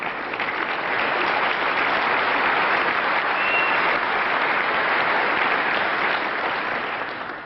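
A snooker crowd at the 1995 UK Championship final applauds in a sustained, dense burst of clapping that swells quickly, holds steady for several seconds and tapers at the end, filling the hall.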